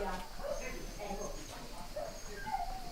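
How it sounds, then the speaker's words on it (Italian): A frightened dog barks outside a house in a village in the province of Padua during a local festival. Faint, scattered barks and yips sound in the distance beneath a person talking. "Questo che sentite abbaiare è Tigro, che è fuori, che ha paura dei rumori."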